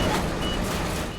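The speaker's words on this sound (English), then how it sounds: "I'm hearing the alarms." A heavy recovery vehicle's reversing alarm beeps over a loud engine rumble while lifting a tractor trailer from a river, a brief burst of repeated warning tones.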